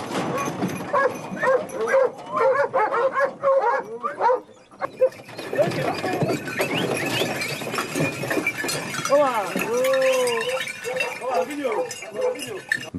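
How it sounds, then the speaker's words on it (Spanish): A pack of hunting dogs barks and yelps excitedly during a Spanish montería big-game hunt, many overlapping voices with some clinking, while someone narrates over the din. "Rápidamente, los llamados perros punteros se alejan buscando los rastros."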